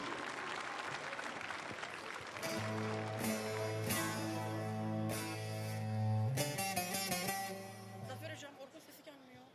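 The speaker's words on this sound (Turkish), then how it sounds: "Çok güçlü alkışlar." An audience at a live event claps in steady, sustained applause while music plays loudly over it.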